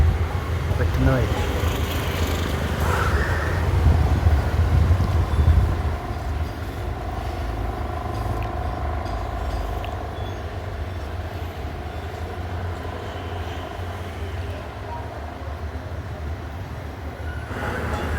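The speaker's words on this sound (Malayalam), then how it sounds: "അടിയിൽ റോഡാണ്, വാഹനം പോലെ സൗണ്ട് ഉണ്ടാവും, വാഹനത്തിൻ്റെ സൗണ്ട് ഉണ്ടാവും." Heavy vehicle traffic rumbles on a road below, a loud, continuous low roar that swells in the first few seconds and then settles into a steady drone.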